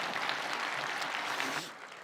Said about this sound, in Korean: 다시 한번 박수로 감사하겠습니다.